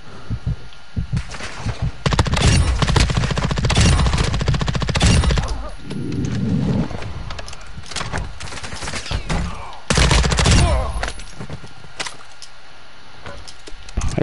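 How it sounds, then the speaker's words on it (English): Rapid, dense gunfire in Call of Duty DMZ, coming from multiple directions: loud, sustained bursts of automatic shots with brief pauses, then another heavy volley, sounding close and intense. "we're getting shot from multiple directions"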